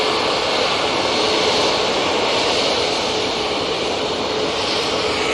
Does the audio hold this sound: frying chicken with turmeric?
no